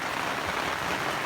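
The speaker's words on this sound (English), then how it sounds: "Today, me and Jake still get rained on, but the sun is out" Steady rain pours down outdoors during a 1989 Fox Body Mustang dash install, a dense, even hiss of drops striking surfaces, loud and close with no voices.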